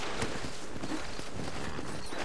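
Horse hooves clip-clop on a trail in the Western video game Red Dead Redemption, a steady run of hoofbeats under a dense, loud wash of game ambience.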